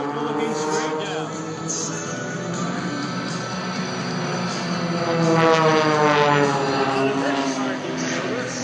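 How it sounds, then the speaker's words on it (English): A propeller aircraft maneuvers overhead at a Wisconsin airshow, its engine droning loud and continuous with a sweeping, wavering pitch as it passes, voices talking faintly underneath. "Watch for them to maneuver the aircraft around and get ready for their signature maneuver."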